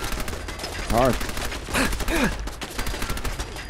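Turret gunfire in a post-apocalyptic wasteland video game, rapid repeated bursts of shots over game ambience, with a brief spoken word and a couple of vocal cries mixed in.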